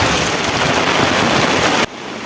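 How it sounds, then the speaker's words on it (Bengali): Heavy rain in Kolkata pours down in a dense, loud, steady hiss that cuts off abruptly near the end. "এই বৃষ্টি এখন থামবে বলে মনে হয় না।"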